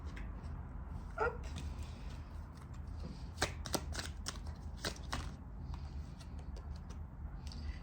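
Tarot cards shuffled and drawn at a reading, quiet, with a soft rustle and a series of sharp slaps and flicks as cards are riffled and laid down.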